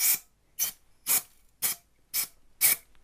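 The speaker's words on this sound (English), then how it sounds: "A bit of the old freezer spray" Freezer spray hisses onto the cables of a Flymo Contour Cordless 500XT strimmer battery in six short, evenly spaced bursts, close and crisp, with no talking.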